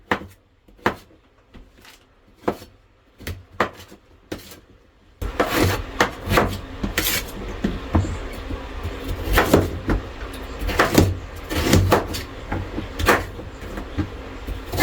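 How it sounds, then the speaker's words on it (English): A knife dices vegetables on a cutting board for a liver bowl: a few sparse chopping knocks at first, then a dense, rapid run of close, crisp cuts and scraping against wood. "we're gonna start dicing up some stuff"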